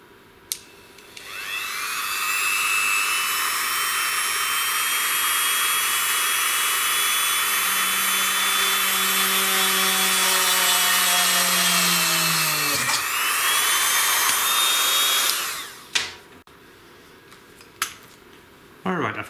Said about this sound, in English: The Best investment ever, my Dremel.